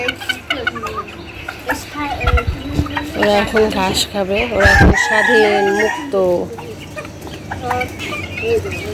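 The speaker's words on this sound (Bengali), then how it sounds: "এই মুরগিগুলো ওই মুরগির ডিম থেকে বাচ্চা ফুটানো হয়েছে ইনকিউবিউটারে" Chickens hatched in an incubator from a hen's eggs, let out on grass, cluck and crow repeatedly, with a rooster's loud cock-a-doodle-doo near the middle; a person talks over the birds throughout.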